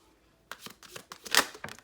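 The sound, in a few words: handling and shuffling tarot cards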